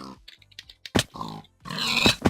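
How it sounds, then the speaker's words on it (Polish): A pig in the video game Minecraft grunts several times in short, separate bursts, moderately loud and close, with quiet gaps between the calls. "to jest świnia bojowa pilnująca jajek, to jest taki żołnierz wśród świń"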